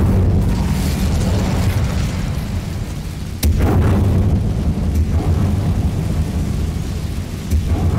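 A loud, rumbling blast from the Incendio fire spell in Hogwarts Legacy, with a sharp burst near the middle and continuous roaring fire and booming before and after.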